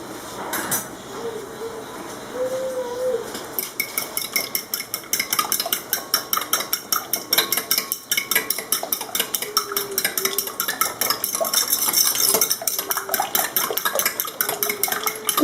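Spinach quiche filling is beaten in a bowl, producing a fast, steady run of light clinks and taps from a utensil against the bowl, close and continuous, with brief speech early on.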